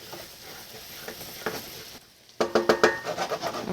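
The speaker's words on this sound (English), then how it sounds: "So add in your garlic, and you're going to just saute that for a couple of minutes." Garlic sautés in a pan, starting with a soft, low sizzle; after a short lull, a louder run of crisp stirring scrapes and clicks against the pan rises over the frying.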